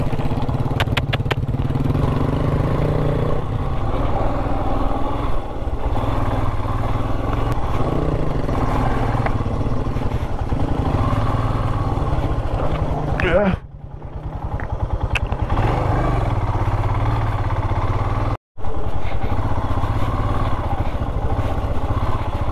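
A motorbike engine chugs steadily at close range while riding a slippery mountain trail toward Kapamedzü Peak in Nagaland, with a continuous loud low drone and a brief dip midway.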